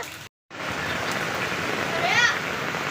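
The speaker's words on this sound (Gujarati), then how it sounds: "જો અમારે કેટલો વરસાદ આવે છે" Heavy rain pours in a steady, dense hiss, briefly cutting out near the start before resuming, with a faint voice underneath.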